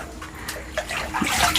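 Water splashes and trickles in bursts as it is topped up from a household storage tank in a rural forest setting, a moderately close, uneven pouring sound with no talk over it.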